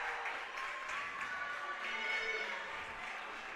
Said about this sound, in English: A nice round of applause from his Warrior faithful here in the stands.